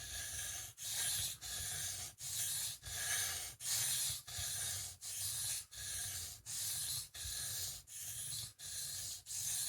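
An AUS8 steel knife blade is drawn along a 1000 grit whetstone in steady, even strokes, about a dozen rhythmic scraping passes with brief pauses between them, close and fairly quiet.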